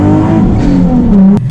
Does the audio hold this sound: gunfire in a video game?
no